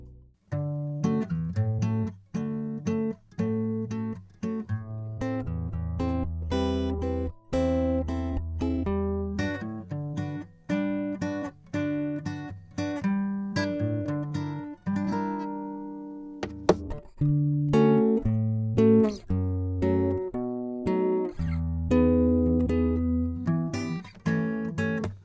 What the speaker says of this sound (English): a demonstration of the difference between a DI'd acoustic guitar and the same guitar mic'd up with a 57